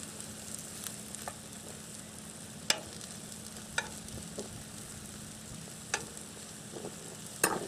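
Mushrooms sweating in a RidgeMonkey pan give a soft, steady sizzle and crackle at close range, broken now and then by sharp clicks and stirring taps.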